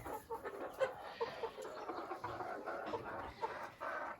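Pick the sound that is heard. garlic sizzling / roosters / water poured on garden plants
roosters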